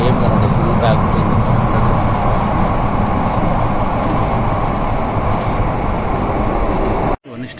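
Underground metro train at Church Gate station in Mumbai, a loud steady rumble and roar of rolling cars filling the space with mixed crowd noise, cutting off abruptly near the end.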